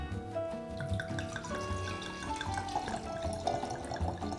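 Homemade berry wine is poured, giving a continuous liquid trickle and splashing at close range with no talking.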